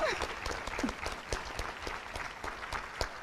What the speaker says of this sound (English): That is worthy of a round of applause.